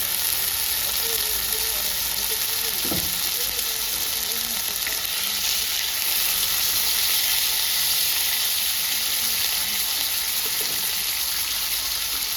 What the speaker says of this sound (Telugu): పసుపు స్పూన్ ఆయిల్ వేసుకొని ఫ్రై చేసుకుందాం